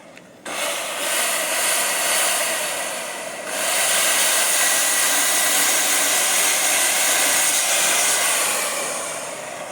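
A Kusama circular saw being test-run spins up with a sharp high whine, dips briefly, then surges back to a loud sustained whir that slowly eases off toward the end.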